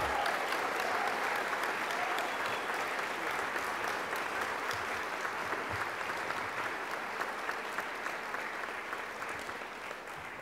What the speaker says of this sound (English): let's give them big applause for their unwavering support